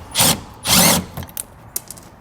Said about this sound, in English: I'm just going to use some self-tapping screws, secure it to our fascia